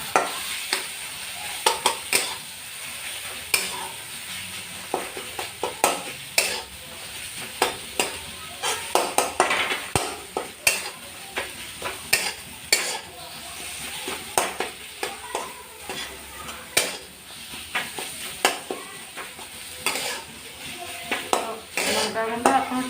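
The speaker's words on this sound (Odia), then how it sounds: "ଏବେ ଆମେ ଭଲ ଭାବରେ ଗୋଳେଇଦେବା।" Spoon stirring coriander and spice masala frying in a pan while cooking okra masala, with steady sizzle and repeated scraping clinks of utensil against the pan throughout, fairly close, a voice faintly in the background.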